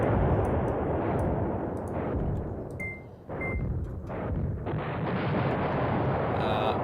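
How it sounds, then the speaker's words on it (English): Rumbling artillery blasts in the war strategy game Command Ops 2, a dense low roar of overlapping booms with sharp pops and a couple of faint electronic beeps. "Just drop all the artillery on them until they stop."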